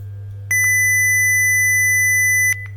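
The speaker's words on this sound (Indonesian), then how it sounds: "si buzzer kan bunyi, terus LED berubah ke warna merah" An ESP32 digital thermometer's buzzer gives one steady, high beep lasting about two seconds, standing out loudly over a constant low electrical hum.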